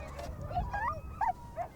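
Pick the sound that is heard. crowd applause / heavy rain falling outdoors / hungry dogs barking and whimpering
hungry dogs barking and whimpering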